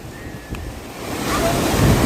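Ocean surf rolling onto Kodiyampalayam beach near Chidambaram, a broad wash of waves and wind that swells louder toward the end, with no talking.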